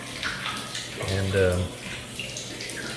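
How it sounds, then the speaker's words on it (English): Water from an aerobic septic system's hillside spray heads runs back down the slope with a steady, close trickle and splash throughout, and a voice speaks briefly over it. "now this is the water just flowing back down the hill"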